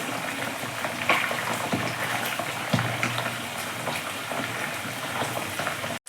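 Chicken cooks in a pan with a continuous loud sizzle and bubbling, broken by a couple of brief clinks and stirring knocks, and no voices.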